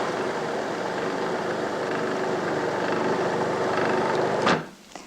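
A food processor purees watercress soup, a loud steady whirring drone that holds evenly before cutting off abruptly, followed by a brief rattle.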